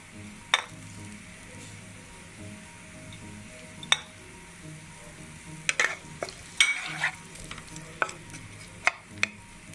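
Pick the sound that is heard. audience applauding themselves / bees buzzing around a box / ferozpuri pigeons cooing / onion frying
onion frying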